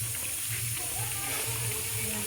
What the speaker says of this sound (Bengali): তেল হয়ে গেছে। ভাত হবে কখন হবে সব? বোঁদে সবাইকে ভেজে খাওয়াবো।